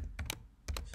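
Rapid keystrokes on a computer keyboard while Go code is typed, a close, quiet clatter in a few quick clusters separated by a short pause.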